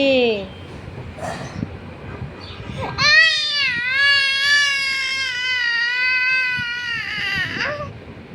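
A young child cries and screams loudly nearby, starting with fussy sobs and then breaking into a long, sustained wailing scream with a wavering pitch before tapering off.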